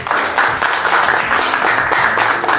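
Audience applause for a hero at a medal-of-honor ceremony with a president, a dense steady wash of clapping filling the whole stretch at fairly loud level, with no clear voices.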